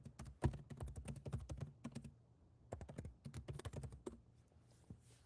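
Fast, uneven clatter of keys on a computer keyboard, close and steady with a short pause midway, no voices over it.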